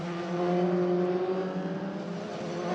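Euroformula Open race cars on the Mistral straight chicane at Paul Ricard, a steady loud engine drone holding a sustained pitch without a break.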